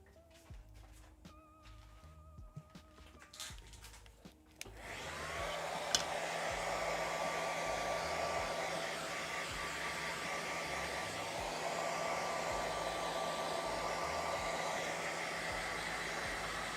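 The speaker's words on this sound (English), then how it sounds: "I've got a hair dryer right here." Hair dryer switches on after a few seconds of quiet room sound and then runs as a steady loud whooshing hum, close by and continuous, with no talk.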